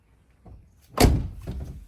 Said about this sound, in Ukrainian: Дверки, до речі, такі закриваються, прям техесенько